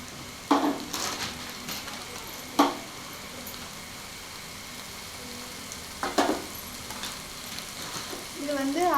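Spices with turmeric sizzle softly in a pan for a kuzhambu, a steady faint fry punctuated by a few sharp spoon-against-pan clacks spread across the stretch, with no voices.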